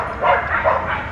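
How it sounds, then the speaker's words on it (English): Several dogs barking outside a condo, a quick run of loud, close yips and barks in an uneven rhythm, with no talking. "These dogs are so loud."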